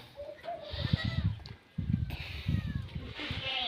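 A goat bleats a few times nearby, its wavering cries mixed with someone talking over them.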